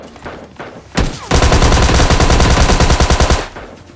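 Gunfire in the mobile shooter PUBG Mobile Lite: one loud shot, then a sustained rapid automatic burst of about two seconds, close and punchy.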